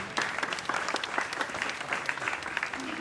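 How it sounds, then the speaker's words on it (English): Audience applause at a school Old Boys Day special assembly: a dense, steady patter of many hands clapping throughout, moderately loud and sustained without pause. "Let's have the Scindian round of applause."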